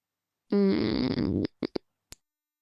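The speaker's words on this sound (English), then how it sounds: "my phone's kicking off for me" Mobile phone going off during a podcast interview: a loud buzzing alert of about one second, followed by a few sharp clicks and a short tap, heard alone and close by.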